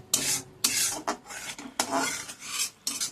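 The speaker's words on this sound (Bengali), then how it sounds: "এবার আমি মশলাটা ভালো করে কষে নেব যতক্ষণ আমার মশলাটা থেকে তেল ছাড়ছে।" A spoon scrapes and rubs repeatedly against a pan as spice paste (masala) is stirred and fried until the oil separates, for a Bengali katla fish bora dish, in short rhythmic strokes up close with no talking.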